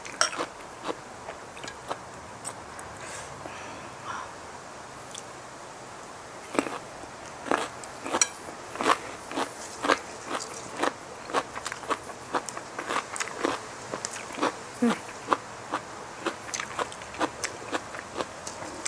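Crunchy chewing of a salmon and seaweed salad, heard as a close, loud run of crisp bites and crackles. It continues steadily with short pauses and carries no talk.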